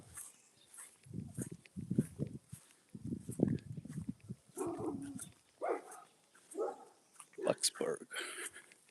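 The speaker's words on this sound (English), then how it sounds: "That high pitched bark is like nails on chalkboard." A small dog yaps in quick high-pitched bursts, several sharp barks in clusters at moderate distance, with people talking in between and over the barking in a fairly quiet outdoor setting.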